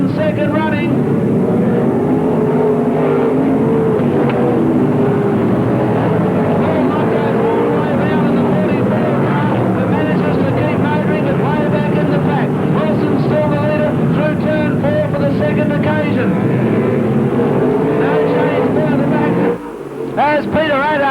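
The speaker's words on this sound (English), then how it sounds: "As Peter Attard guns the 53 car through into second, Kev Worthington jumps out from the middle mark to grab third" Race cars at Parramatta City Raceway roar continuously and loudly through a race, engines blaring under a talking announcer, with a short dip in the noise near the end.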